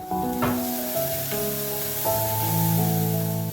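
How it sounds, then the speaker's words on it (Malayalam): Chopped ginger, chili and garlic with curry leaves sautéing in coconut oil, a steady close sizzle with light stirring noises, while soft music plays underneath throughout. "കുറച്ച് വെളിച്ചെണ്ണ ഒഴിച്ച് കൊടുത്തിട്ടുണ്ട് കറിവേപ്പില ഇട്ടിട്ടുണ്ട് എന്നിട്ട് ചോപ്പ് ചെയ്ത ഐറ്റംസും ചേർത്തിട്ട് നന്നായിട്ട് വഴറ്റിട്ടെടുക്കാം"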